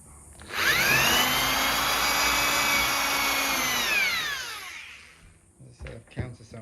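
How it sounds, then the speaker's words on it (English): A power drill drives screws into a wooden whelping box, running in one loud continuous whir that winds down after about four seconds, followed by a few handling knocks. "The drill will push those in hard enough so that they countersink themselves"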